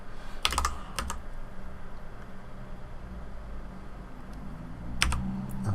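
Keys on a computer keyboard are tapped in short bursts while typing a search in Blender, a few quick clusters near the start and another near the end, over a quiet steady room hum.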